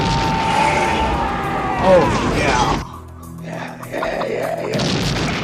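Movie explosions and crashes from the 1989 action film Tango & Cash play loudly, with a big boom swelling near the middle and then cutting out. A person talks over them and reacts.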